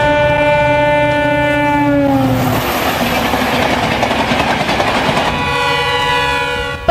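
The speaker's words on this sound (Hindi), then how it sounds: "पटरी पर तेज रफ्तार ट्रेन तूफानी गति से दौड़ी जा रही है" A fast express train sounds its horn in a long, loud blast, then roars past a small railway halt close by, its wheels clattering over the track in a dense, rushing wash before the horn returns.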